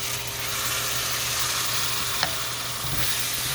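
Chickpea curry masala sizzles and fries steadily in a pan while being stirred, a continuous close hiss with occasional scrape of the spoon, no voices.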